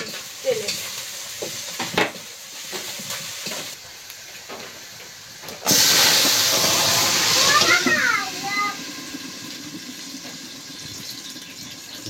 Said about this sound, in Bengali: আদা রসুন বাটা দিয়ে দিয়েছি, আর একটু পাঁচফোড়ন দিয়ে দিয়েছি কিন্তু তেলে।